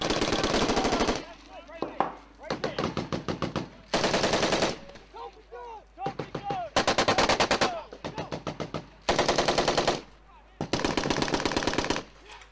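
Automatic machine gun fire from Marines in battle, loud and close, coming in long repeated rapid bursts separated by short pauses, with scattered single shots between bursts.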